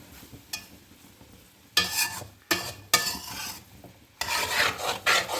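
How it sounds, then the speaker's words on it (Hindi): A utensil stirs and scrapes chicken seviyan noodles around a pan in several rough, rasping bursts separated by short pauses, close and moderately loud, with faint sizzling between strokes. "अब मैं इनको अच्छी तरह मिक्स करने लगी हूँ"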